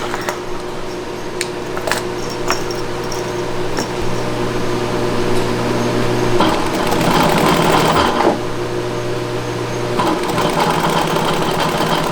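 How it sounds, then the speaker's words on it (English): An antique serging machine stitches and trims Duluth Pack canvas bag material, a loud steady mechanical whir with rhythmic stitching, short clicks and two surges of faster running in a factory workroom. "This is our serging machine"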